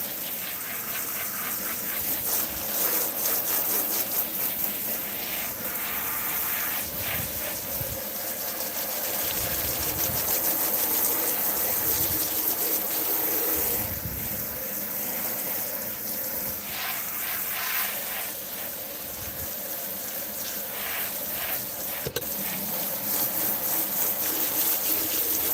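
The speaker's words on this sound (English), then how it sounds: "I'll definitely wash my floor mats in the kitchen sink" Running water gushes steadily into a kitchen sink while car floor mats are washed, a continuous splashing wash with occasional sloshing changes throughout.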